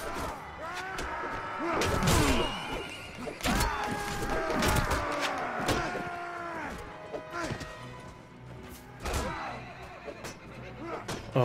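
Horses neighing and whinnying in the medieval combat game Mount & Blade: Warband, several loud calls among crashes, thuds and hoofbeats in a chaotic battle scene.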